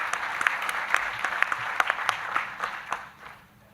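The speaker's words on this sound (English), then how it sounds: "you may give the researchers and the moderators a round of applause" Audience applause at a G20 panel on cross-border payments, a moderate burst of clapping with distinct individual claps that thins out and fades over a few seconds.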